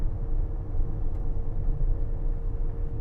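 A 2022 Fiat E-Ducato electric van climbs a hill, heard from inside as a steady, quiet low road rumble with a faint, even motor whine and no speech.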